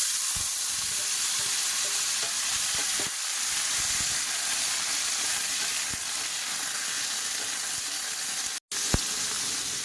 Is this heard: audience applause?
no